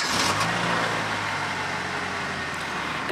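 A car engine rumbles low and steady close by as the vehicle reverses slowly, a continuous motor hum over about three seconds with no talking.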